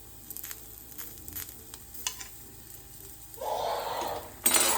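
Onion, garlic and chillies frying in a pan, a faint sizzle with light stirring clinks that swells into a louder, steady hiss near the end.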